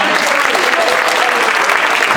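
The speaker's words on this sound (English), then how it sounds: "How about a round of applause for Jack?" Steady applause from an audience at a council district forum hosted by a homeowners association, dense clapping sustained at an even level throughout.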